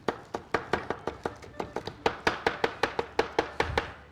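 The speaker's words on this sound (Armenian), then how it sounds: "Մի փոքր թարխուն կխնդրեմ, որպեսզի դու կտրատես, Սեդրակ ջան։" Knife chopping fresh tarragon on a cutting board in a home kitchen, a steady run of about twenty crisp, evenly spaced chops close by, with no talk over them.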